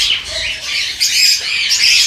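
A dun fallow pigeon gives harsh, loud squawking calls close by, one rough burst after another across two seconds, with no voices over them.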